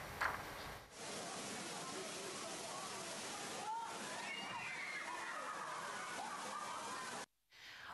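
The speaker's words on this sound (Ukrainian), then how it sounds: "затопило вулиці, магазини і будинки" Floodwater rushes and sloshes continuously through city streets after a storm with a year's worth of rain, a steady loud wash with no voices heard.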